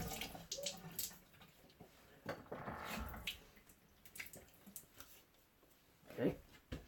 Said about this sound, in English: Some cold water splash here.